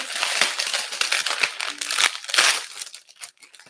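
Plastic bag crinkling and crushing close up during a heat-fused bead craft session, a dense run of crackly rustles with several louder bursts, then fading to lighter scattered rustling.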